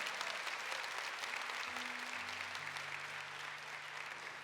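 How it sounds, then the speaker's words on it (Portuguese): A church congregation claps in steady, sustained applause, even and unbroken throughout, with no voices standing out. "Se você crê nisso, aplaude a palavra de Deus com fé."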